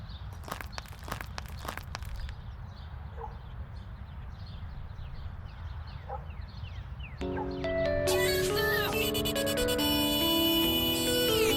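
A mobile phone rings with an incoming call, its melodic ringtone starting partway through and playing loudly and steadily after footsteps and faint background noise.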